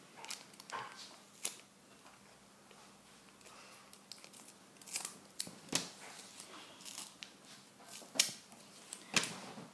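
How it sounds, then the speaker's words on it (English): Scissors snip through tape several times while a small wind vane is being built, giving short, sharp crisp cuts scattered at irregular intervals over a quiet background. "you cut the tape off and stick it on to the"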